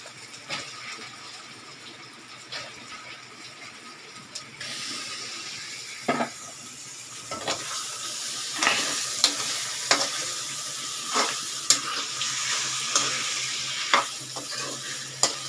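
Chicken pieces frying in a pan with onion and ginger-garlic paste for a chicken kurma, a steady close sizzle broken by repeated sharp scraping stirs that grow more frequent after the chicken goes in.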